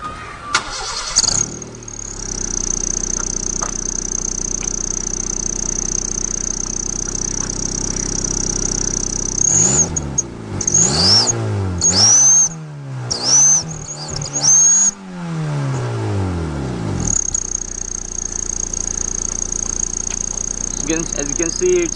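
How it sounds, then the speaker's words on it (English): A car engine fitted with a turbo whistler starts and revs, giving a loud high whistle over the idle, then several rising and falling revs, each with a sweeping whistle, before it settles back to a steady whistling idle. "now I will just fire my engine and let's see how it sounds like."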